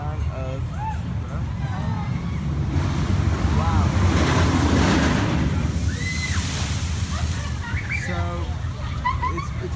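Water splashes up from the Kumba roller coaster at Busch Gardens Tampa, a broad rushing wash that swells in the middle, with steady wind buffeting the microphone and people talking nearby.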